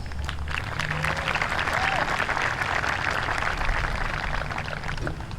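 Sustained applause from a graduation ceremony crowd at the 2020 CRHS live graduation, a steady, even roar of many hands clapping at a distance for several seconds.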